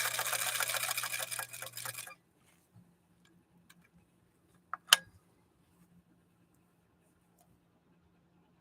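A 1954 Husqvarna sewing machine with a leather needle stitches zigzag in a fast, close, even whirring burst lasting about two seconds, followed by near silence broken by a few faint clicks and one sharp tap.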